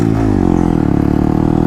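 A motorcycle engine drones steadily up close during a circle wheelie, its pitch rising slightly as the bike swings around, loud and unbroken for a short moment.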